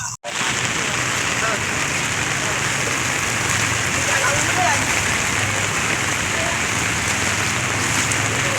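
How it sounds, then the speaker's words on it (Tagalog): Steady heavy rain pouring down in a flooded Balintawak street, a dense continuous hiss close around, with a brief dip at the very start. "Umagsak na naman ng ulan guys"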